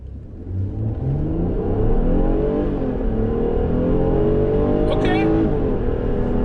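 A 2022 Nissan Pathfinder three-row crossover accelerating hard in sport mode, its engine note rising steadily and loudly from inside the cabin as the revs climb.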